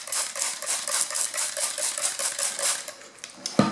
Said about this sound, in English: we're gonna just spray it down a little bit